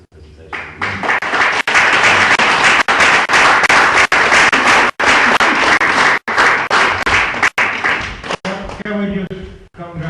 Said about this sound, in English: we have to give a huge round of applause to you guys